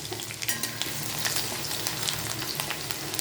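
Whole bay leaves, a dried red chilli and crushed garlic cloves fry in hot oil for a rohu fish curry, giving a dense, even sizzle that stays close and constant throughout the short burst.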